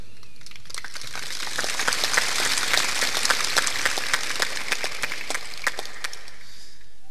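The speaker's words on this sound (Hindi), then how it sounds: "तालियां थोड़ा जोर से बजाना।" A crowd applauds at a Hindu religious discourse, dense clapping rising over a couple of seconds, holding steady and loud, then thinning out toward the end.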